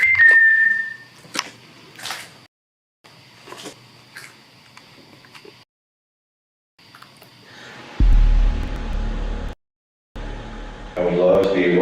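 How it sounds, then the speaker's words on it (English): A brief high whistle at the start, followed by scattered knocks and taps, silent gaps, and later bursts of rumbling noise. "I just heard whistling."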